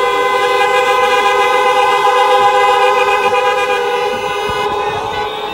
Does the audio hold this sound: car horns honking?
yes